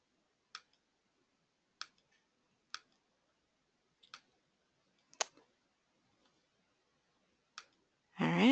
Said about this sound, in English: I'm still clicking here